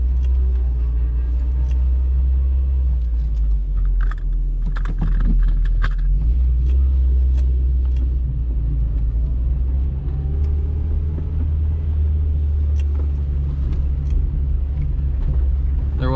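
An idling engine in a cheap $80 car bought at Copart rumbles low and steady, close by, with faint clicks and light rattles over it partway through.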